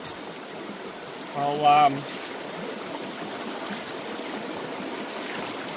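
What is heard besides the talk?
creek water flowing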